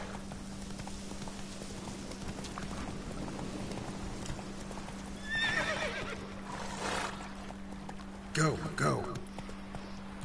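Roach, the horse in a Witcher video game, neighs and whinnies in short bursts over steady hoof clip-clop and a constant low game hum, with a voice talking in between.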